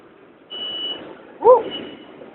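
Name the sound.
electronic beeping signal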